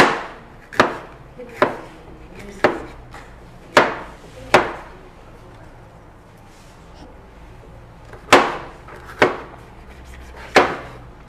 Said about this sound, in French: je vais découper les poivrons, là. Grossièrement